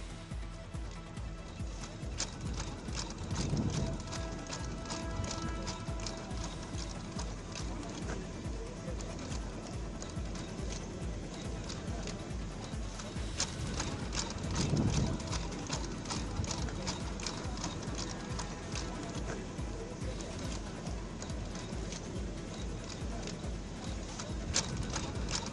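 Army horses' hooves clip-clop on the ground at a military dog and horse exhibition in a sports complex, a steady run of hoofbeats with a busy crowd murmur and voices underneath throughout.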